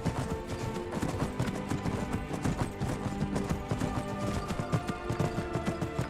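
A horse trots along in Skyrim, its hooves clip-clopping in a quick, even rhythm, prominent and close over a tonal game soundtrack.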